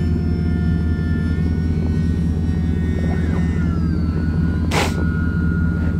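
A scratch-built 60-inch snow plane's engine runs steadily at half throttle, a loud continuous droning hum close by, with a brief whooshing burst near the end.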